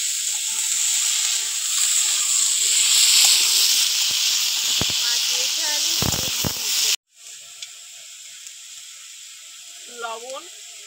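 Vegetables hit a hot pan after prawns have been fried in it, bursting into a loud, steady sizzle and hiss that cuts off abruptly and returns quieter, with faint clinks near the end.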